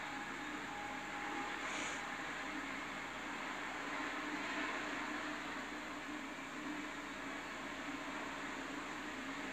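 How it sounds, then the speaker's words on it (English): A steady, faint rumble of a train passing at a distance, continuous for several seconds with no voices. "Do you hear the train?"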